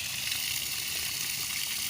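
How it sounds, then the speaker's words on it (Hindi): Pressurised water gushing steadily from a newly fitted submersible borewell motor, a continuous broadband rush that stays even and close throughout with no talk. "देखो माशाल्लाह अभी पानी कैसे प्रेशर के साथ आ रहा है।"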